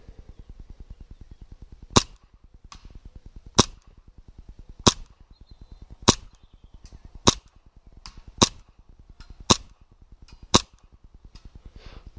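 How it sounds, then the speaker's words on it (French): Shots from a Tokyo Marui Hi Capa 5.1 stainless airsoft pistol fired at a 40-metre range, about ten sharp cracks at uneven intervals of roughly a second over a steady low mechanical hum, with no talking. "Donc on va se retrouver pour le test de tir à 40 mètres."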